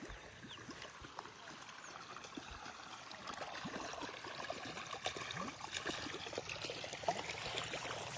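Irrigation water trickles and gurgles as it flows into a paddy field being readied for transplanting, a faint, continuous watery wash heard close by with no talking.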